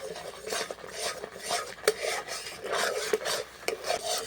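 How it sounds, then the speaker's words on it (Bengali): Green raw mango candy mixture stirred in a pan, a steady scraping and rasping of a spoon against the pan with repeated strokes and a few sharper clinks, close and moderately loud, with no talking. "এরপর অনবরত এইভাবে কিন্তু আমি নাড়তে থাকবো"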